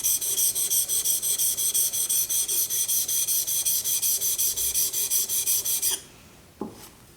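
A woodworking chisel is rubbed back and forth on a sharpening stone in a fast, even rhythm of rasping strokes close by. The stroking stops abruptly, followed by a couple of light knocks.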